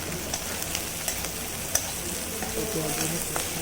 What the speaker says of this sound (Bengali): এদিকে এটা মাছের জন্য এরকম পেঁয়াজটা কষানো হচ্ছে